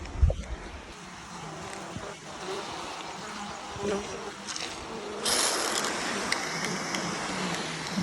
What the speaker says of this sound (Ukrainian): От вони тут у нас бджілки сидять.